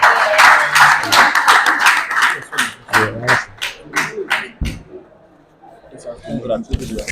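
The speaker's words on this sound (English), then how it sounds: "Let's give him a round of applause." An audience at a public speaking event for education and research claps in a loud burst that thins into scattered claps, with a voice speaking over and after it.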